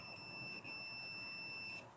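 A multimeter continuity-test buzzer sounds a steady high-pitched tone continuously for about two seconds during a wall-fan repair, with a brief dip partway through, over faint background hiss.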